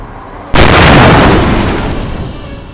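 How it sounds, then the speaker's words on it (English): A bomb goes off near the Charter Oak Bridge: one sudden, very loud blast that hits at once and then rolls away into a long, fading rumble. "We just had an explosion near the Charter Oak Bridge."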